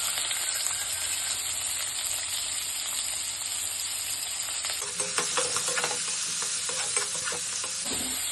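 Onions frying with cloves and bay leaf in a pan for a roadside-style salna, a steady close sizzle and hiss with scraping stirs growing busier partway through, no voices.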